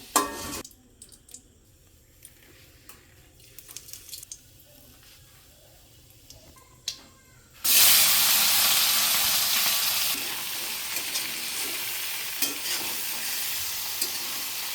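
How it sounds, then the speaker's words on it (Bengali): Potatoes fry in a pan with oil. Quiet stirring and scraping come first, then a loud, close sizzle starts abruptly partway through and holds steady to the end. "আমার আলু ভাজি শেষ এখন আলুগুলো নামিয়ে নিব"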